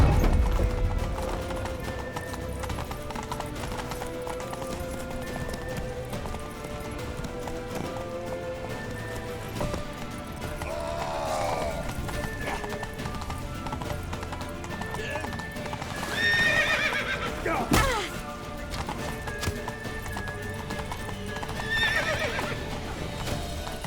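Hooves clatter in a fast, steady gallop in The Witcher 3: Wild Hunt, beneath music and battle noise, with a horse whinnying and shouting voices breaking in now and then.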